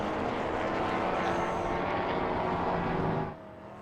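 Race cars including a BMW, Toyota 86 and Holden Commodore lapping Sydney Motorsport Park in a championship race, a loud sustained engine roar that passes and then drops away sharply to a quieter hum.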